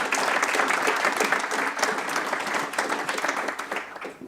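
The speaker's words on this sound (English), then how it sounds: "a warm round of applause," A warm round of applause from an audience after an architecture talk, full dense clapping that holds steady and then slowly tapers.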